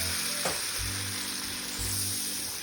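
Cooking wine hits pork stir-frying in a hot pan and it sizzles steadily and loudly throughout, with low thumps from the pan being moved.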